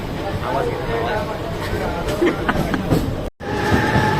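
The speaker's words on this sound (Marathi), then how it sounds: "मुंबईची लाईफ लाईन आहे मुंबई लोकल" A Mumbai local train rumbles and rattles steadily along the tracks with continuous noise, briefly cutting out near the end, while people talk over it.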